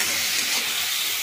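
Fish frying in a pan: a dense, steady close-up hiss of hot oil, short and continuous with no talk.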